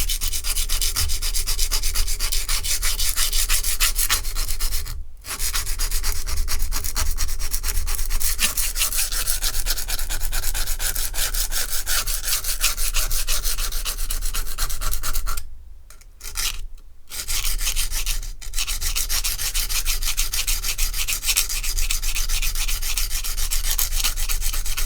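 Steady, continuous abrasive grinding as a paring knife with a broken tip is reprofiled, loud and close for nearly the whole stretch, broken by a short pause around five seconds and a few brief gaps near sixteen to eighteen seconds.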